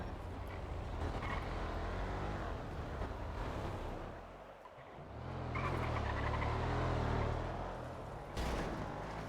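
A vehicle rumbles past on a turf track, its engine note swelling loud and close midway through before easing off, with steady broadband road noise throughout and no talk.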